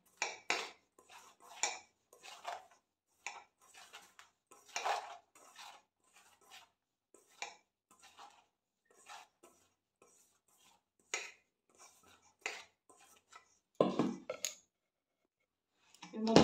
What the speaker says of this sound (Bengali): মশলাটা একটু মেখে নিতে হবে।